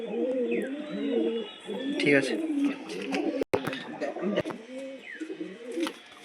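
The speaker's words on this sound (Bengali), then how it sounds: "নর পায়রা।" Several pigeons coo repeatedly in a loft, their rhythmic throaty calls filling the space while people talk nearby and a sharp clatter briefly cuts through.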